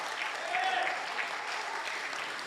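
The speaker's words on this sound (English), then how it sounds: "So let's give a round of applause to Pastor Naokimi." Church congregation applauding the pastor, a steady wash of clapping from a large room, somewhat distant and even, with faint voices mixed in.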